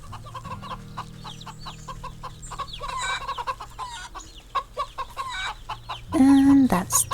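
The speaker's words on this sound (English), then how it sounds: "This way to the chickens." Farmyard chickens in the video game Wytchwood cluck in a busy cluster, quick repeated clucks and squawks over a low hum, ending in a loud drawn-out squawk near the finish.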